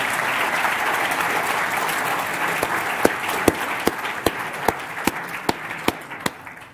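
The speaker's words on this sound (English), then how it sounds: "Another round of applause." An audience at a Bakerian Prize and Lecture medal presentation applauds in a dense, steady patter, and the clapping thins into a few louder, separate claps near the end.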